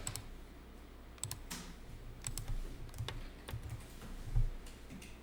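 Fingers tap on a computer keyboard to enter a bill number, a faint series of quick, irregular key clicks in a quiet room.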